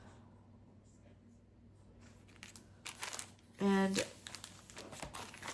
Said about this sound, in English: I'm gonna make crinkling noises because I didn't take that out first